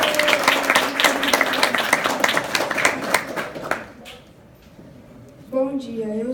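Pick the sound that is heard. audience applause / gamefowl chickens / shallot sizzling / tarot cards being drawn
audience applause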